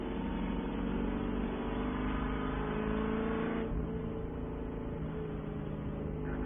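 A Spec Corvette race car at Daytona International Speedway weaves left and right to warm its Nankang tires, its engine droning steadily at mid distance with slight shifts in pitch.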